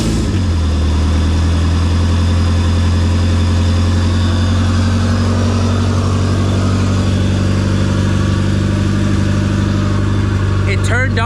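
A car with a B18C engine idles right after its first start following a wiring harness install. The engine hums loud, steady and close for the whole stretch, with no talk over it.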